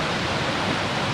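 A waterfall in Swaledale gives off a steady, even rush of falling water, a broad hiss heard close and continuous with no voices over it.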